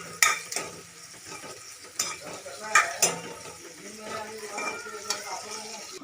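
Spices and ground masala fry in a pan, with a low continuous sizzle and several sharp scrapes and clinks of a spoon against the metal, heard up close.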